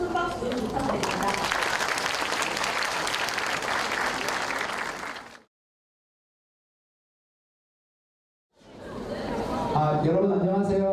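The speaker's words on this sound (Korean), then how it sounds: "다시 한번 큰 박수 부탁드립니다" Applause from a lecture audience at a 2019 Brain Awareness Week talk on color and short-term memory, thick and even for about five seconds. It cuts to silence, then a voice begins speaking.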